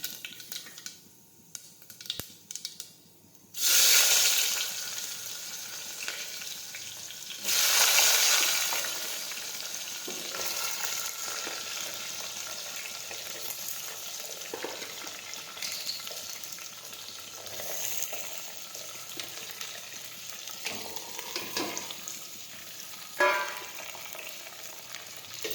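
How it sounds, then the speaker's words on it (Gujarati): Mustard seeds, cumin, asafoetida and curry leaves hit hot oil with sharp bursts of sizzling that settle into a continuous crackle and spatter, close and moderately loud. "હવે આપણું તેલ છે તે ગરમ થઈ ગયું છે. તેમાં હવે આપણે રાઈ અને જીરું નાખી દઈશું."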